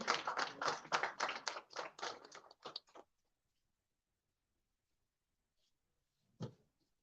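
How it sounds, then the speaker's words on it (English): Short burst of applause from a small audience at a public relations day event in Kolkata, close and fairly quiet, fading out after about three seconds and followed by silence and one stray knock. "Round of applause."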